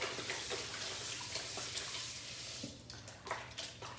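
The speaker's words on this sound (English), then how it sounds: "go ahead and fill it again with a little bit of water" Water runs steadily from a tap into a basin to rinse laundry washed by hand with Dr. Bronner's soap, a continuous close splashing rush with small sloshes and shifts in flow.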